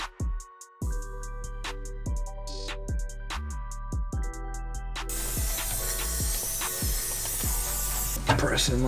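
Silicone spray is applied to a polyurethane rear differential mount bushing on an Audi A3/S3 MK7, with a close, steady hiss lasting about three seconds after an earlier stretch of other sound.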